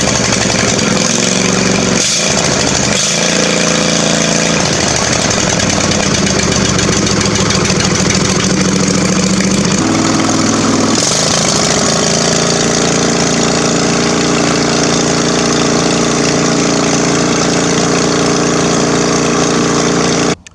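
The engine of an old Murray riding lawn mower, restored on a small budget, is keyed on, catches and then idles loudly and steadily up close, with a brief change in pitch as it settles, and no talking.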